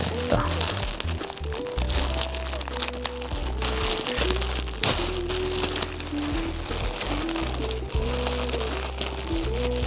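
Plastic packaging around a winter jacket crinkles and crackles as it is opened, close and irregular, partly masked by steady background music.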